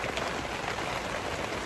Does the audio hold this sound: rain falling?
yes